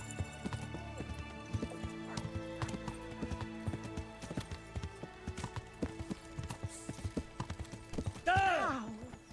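Horse hooves clip-clop in a steady, fairly quick rhythm in the medieval video game Kingdom Come: Deliverance, with a horse whinnying near the end and voices speaking.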